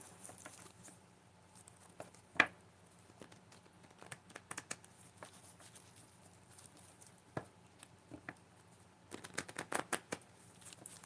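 Oracle cards are shuffled and drawn in soft, quiet bursts of papery flicks and taps, a sharp snap near the start and a flurry of riffling toward the end, close and faint.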